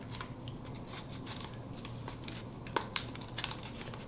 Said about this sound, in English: you'll take a piece of tape like this, and you will wrap it